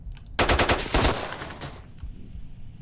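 Rapid automatic gunfire from a weapon in S.T.A.L.K.E.R. Shadow of Chernobyl, a loud close burst of shots in quick rhythm lasting about a second, then trailing reverberant echoes and fainter scattered noise.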